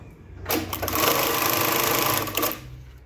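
A Jack JK-T1900 BSK automatic bar-tack sewing machine stitching through layered tape, with a loud, fast, steady mechanical whirr lasting about two seconds between short start and stop clunks, close to the listener.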